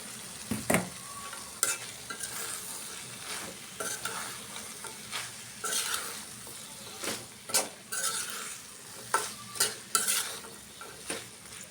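Jackfruit frying in a pan on a home stove while being stirred, a continuous sizzle broken by repeated scraping and clinking strokes of the utensil against the pan, close and fairly quiet.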